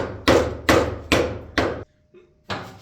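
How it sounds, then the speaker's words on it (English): Sharp metallic hammer strikes land in a steady rhythm, five heavy whacks driving a wrench onto a slightly stripped nut on a Farmall H tractor, a short pause, then another blow. "I kind of got to hammer it on a little bit"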